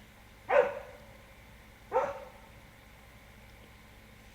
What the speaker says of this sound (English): My dog is barking at grasshoppers.